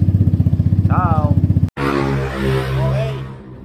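A Vespa scooter fitted with an Akrapovic exhaust idles with a fast, even putter, then after a brief cut revs up into a louder, throaty drone with rising and falling throttle, close by.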